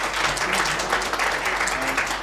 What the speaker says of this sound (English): Maybe we can get applause for the work you're doing in this presentation.